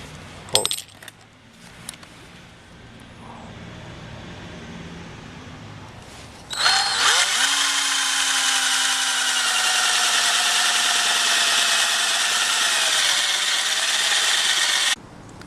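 A power drill bores a 7/8 inch hole into a wooden block. After light handling knocks, the motor starts loud and runs in a steady high whine for about eight seconds, then cuts off abruptly.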